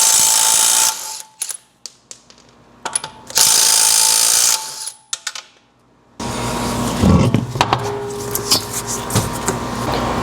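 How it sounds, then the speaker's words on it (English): Impact gun fitted with a 21 mm socket spinning lug nuts off a Tesla wheel, with two loud, harsh bursts of buzzing, hammering noise separated by short gaps, then ongoing clatter and handling noise close by. "we will take a impact gun with a 21 on it. That is what fits these lug nuts, and we will simply take the lug nuts off."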